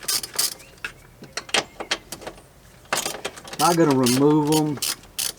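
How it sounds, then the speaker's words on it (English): A ratchet clicks in short bursts while backing out 10mm screws on a 1999-2007 Chevrolet Silverado dashboard, close and crisp, with someone speaking briefly in between. "we're going to undo these two 10mm screws right here"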